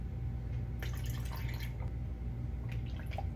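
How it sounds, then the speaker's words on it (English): Water poured into a large bowl of sourdough starter, heard as a steady liquid trickle with soft drips and splashes over a low background hum. "I'm adding the water."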